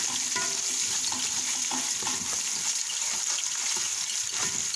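Rice and lentils go into a pot for Egyptian koshari, with a steady sizzle and hiss from the hot pot and some stirring scrapes, close by and without speech.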